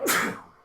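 A single short, sharp human sneeze, close and fairly loud, bursting out and quickly trailing off in a quiet room.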